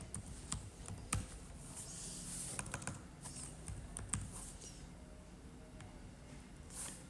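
Soft, irregular clicking of keys on a computer keyboard as a name is entered into an HTML web form, quiet taps in short bursts with brief pauses.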